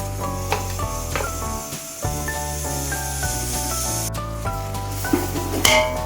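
Ginger garlic paste hits hot oil in a pan of vegetable biryani with potatoes, giving a steady, even sizzle that runs throughout beneath louder background music.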